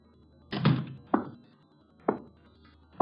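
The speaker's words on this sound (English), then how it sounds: "Shut the door, Chuck." A door is shut as a sound effect in an old-time radio detective drama, giving a heavy wooden thud followed by several lighter knocks and clunks, close and dry, with no voices.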